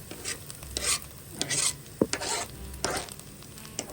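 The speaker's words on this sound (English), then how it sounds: "let's saute these seasonings" Onion, garlic and parsley being sautéed in a pan with a soft sizzle, while a utensil scrapes and stirs in quiet, irregular strokes close by.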